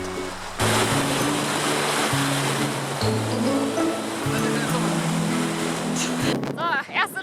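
River water rushes in Kyrgyzstan's Tien Shan mountains, a loud broadband roar that fills the whole stretch while a voice speaks over it and handling noises clatter near the end.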